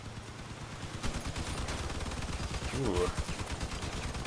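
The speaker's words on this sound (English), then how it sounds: "We're taking fire." Bursts of rapid gunfire in the vehicle combat game Crossout, steady and fairly loud over engine rumble, with a brief spoken exclamation.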